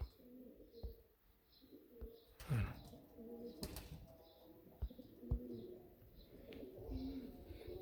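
Pigeons coo repeatedly in low, throaty murmurs, with a few brief knocks and rustles against a busy outdoor background.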